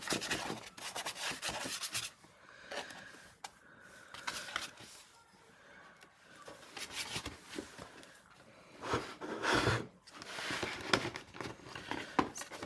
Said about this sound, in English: I've got this really scratchy brush here, so I kind of want to try that